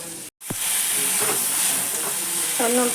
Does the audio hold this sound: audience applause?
no